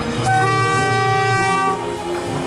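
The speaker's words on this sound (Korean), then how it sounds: "가끔가다 페르레일 기차가 지나갑니다." A PeruRail train passing on the tracks toward Machu Picchu, Peru, blows a loud, sustained horn blast close by that cuts off, leaving a low rumble of the train rolling past.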